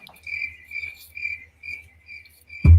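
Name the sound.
crickets sound effect played during dead air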